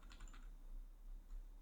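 Keystrokes on a computer keyboard while a password is typed at a Linux FTP login prompt, faint and close, a quick irregular run of soft taps with no talking.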